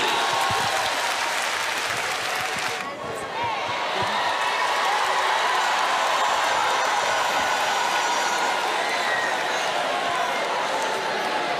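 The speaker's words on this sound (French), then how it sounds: "Applaudissez très fort pour la Côte d'Ivoire" Audience applauding for Côte d'Ivoire at a live show, steady dense clapping and crowd noise sustained throughout, with a brief dip early on before it swells back to full loudness.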